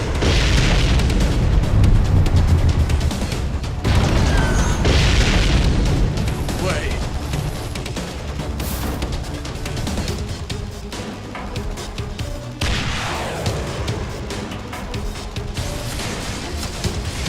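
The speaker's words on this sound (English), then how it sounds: "We seem to be witnessing a firefight on the perimeter of the White House." Heavy explosions and booms in a firefight on the White House perimeter in the fighting game Guilty Gear Strive, a dense, continuous loud rumble with repeated blasts throughout and a voice speaking over it.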